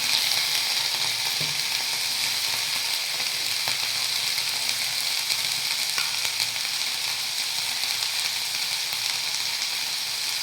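Wheat-flour noodles are tossed with red chili sauce and ketchup in a hot pan, making a loud, constant close sizzle broken by a few soft stirring scrapes, with no talking.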